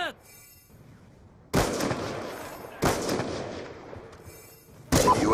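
Three loud, separate bursts of automated sentry gun fire in a military video game, each sharp and ringing out, spaced a second or so apart, with brief synthetic interface tones between them.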